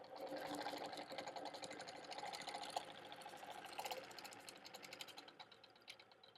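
A sewing machine runs a lock stitch on a quilt at 5 stitches per inch, giving a fast, steady mechanical whir up close. It starts fairly loud and eases off toward the end.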